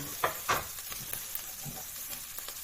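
Pork stir-fried with red curry paste and shredded kaffir lime leaves sizzles steadily in a hot pan, with a few louder scrapes and stirring clatters near the start over a continuous frying hiss.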